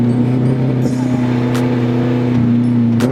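The loud engine of a 1995 Nissan 240SX drones close by at a steady, throaty pitch with a strong low hum, holding nearly constant with faint clicks and no speech over it.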